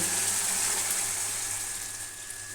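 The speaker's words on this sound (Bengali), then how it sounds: "এইবার দিয়ে দিই ঝোল" Broth poured into a pan of frying spiced meat curry, a steady gushing, hissing pour that stays close and continuous, slowly easing off toward the end, with no voices.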